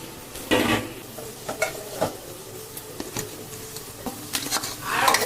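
Taro pieces are mixed into spices in a pan with repeated scraping and stirring strokes of a utensil, alongside a light sizzle, close and clear with no talk.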